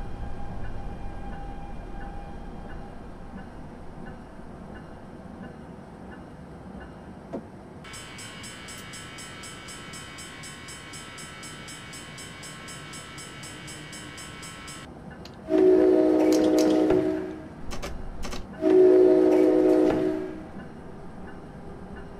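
An ALP-45D locomotive pulls away from a station in Train Simulator 2017 on a US commuter route. A steady rumble runs throughout, with a long high tone in the middle and two loud horn blasts near the end.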